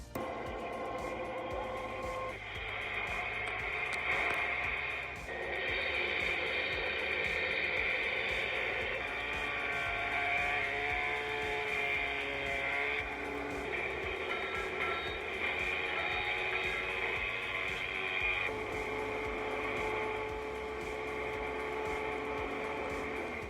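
An HO scale model railway layout plays a welder sound effect, a continuous buzzing, crackling electronic tone with tonal bands that shift every few seconds, steady and fairly faint.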